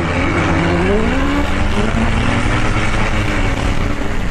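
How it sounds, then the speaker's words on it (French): Several motocross bike engines roar together on the Antoing Cross Festival track, heard from an onboard bike amid the race; loud, continuous revving with rising and falling pitch and nearby engines layered behind. "j'entends beaucoup de moteurs derrière moi"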